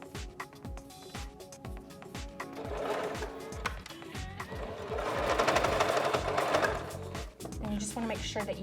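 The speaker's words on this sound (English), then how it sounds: "And then you just sew one more line right down the very edge." Sewing machine running a line of stitches down the edge of a folded fabric tube for a studded fashion cuff, a steady mechanical whir with rhythmic needle clatter that surges louder midway before easing off.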